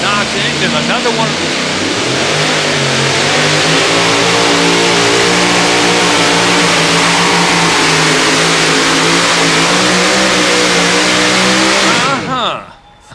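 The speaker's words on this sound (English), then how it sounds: "pulling a couple years only with this Sassy Hemi, 526 cubic inches on a Joe stock chassis" A two-wheel-drive pulling truck with a 526-cubic-inch Hemi on a Joe Stock chassis makes a tractor-pull run, its engine roaring loud and sustained at high revs for about twelve seconds before cutting off abruptly, with voices underneath.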